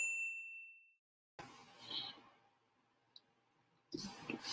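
A bright bell-like ding rings out clearly and decays after a moment of silence, then a second cluster of chimes follows, a notification bell sound effect.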